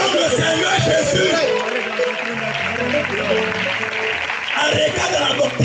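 A church congregation applauds and cheers loudly and steadily at a wedding consecration in Bassam, Ivory Coast. Dense clapping and crowd voices continue throughout, with a low tonal backing underneath.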